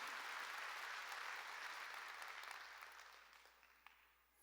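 A church congregation applauding at a sermon, a dense sustained clatter of many hands that gradually thins and fades toward the end, heard alone without speech.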